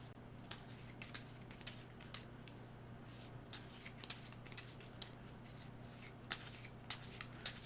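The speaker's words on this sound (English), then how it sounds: "So I'm gonna shuffle this." A deck of cards is shuffled for the tabletop game Sanctum: a quiet run of soft riffling clicks and snaps at an uneven rhythm over a low steady hum, with no talking.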